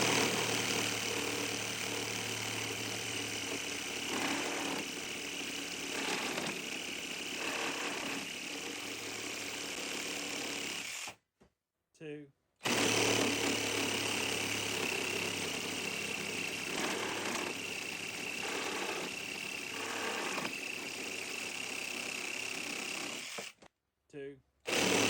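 Compact Engindot reciprocating saw cutting nail-embedded wood, a steady buzzing motor drone with rougher, shifting grinding bursts as the blade bites, twice interrupted by brief silences, with speech mixed in.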